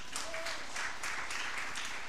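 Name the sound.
church congregation applauding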